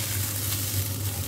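Brown rice frying in a pan, a steady close sizzle with a low electrical hum beneath, no voices.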